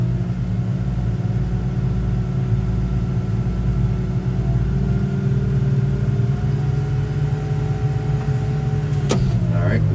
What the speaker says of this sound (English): right now I'm giving it some throttle and I'm gonna push the boom forward